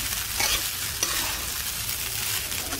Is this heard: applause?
no